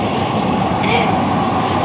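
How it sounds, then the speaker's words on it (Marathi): A Mumbai metro train running at speed, a loud, steady rumble heard from inside the carriage with no break. "जोरा मेट्रो चालती."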